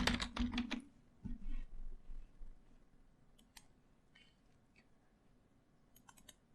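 A computer keyboard clatters in a quick burst of keystrokes at the start, then a few sparse, faint clicks follow in a quiet room.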